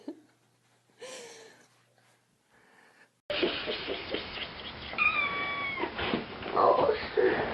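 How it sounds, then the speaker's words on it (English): A cat meows several times at close range in a home with a baby, drawn-out rising and falling cries over noisy room sound, with a brief gasp or voice before it. "Let the kitty go see Abby."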